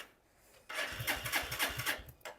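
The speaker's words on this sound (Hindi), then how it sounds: "मोटरसाइकिल जो है ना वो स्टार्ट हो चुकी है" A motorcycle engine starts at night and settles into a rough, pulsing idle, close by and fairly quiet, with no talk over it.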